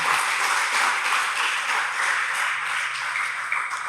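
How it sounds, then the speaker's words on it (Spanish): Church congregation clapping in praise during a Spanish-language worship service, a steady wash of many hands applauding together, dense and continuous at moderate loudness without pause. "Dele palmas al Señor"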